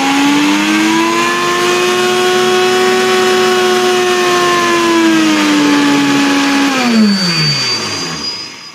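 A Silver Crest 2-in-1 juicer blender motor runs on turbo speed with a loud, steady high whine that holds its pitch, then drops and winds down near the end.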